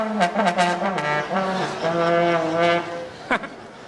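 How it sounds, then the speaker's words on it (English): A buzzy, reedy sackbut blows a few wavering low notes, with short bursts and slides, fairly loud and close. "You just blew down a sack butt."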